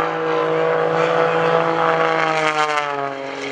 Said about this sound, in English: He's tumbling the airplane through the sky.